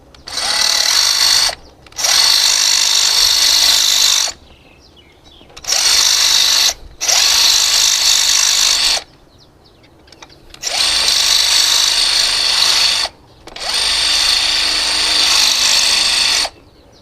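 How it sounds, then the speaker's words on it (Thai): A loud, high-pitched power drill whines in repeated bursts of a few seconds each, separated by brief pauses, grinding close up into a glass bottle. "เดี๋ยวผมจะพยายามเจาะลงไปให้มันทะลุเลยนะครับ"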